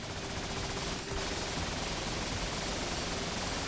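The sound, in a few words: laser gatling gun firing in the video game Risk of Rain Returns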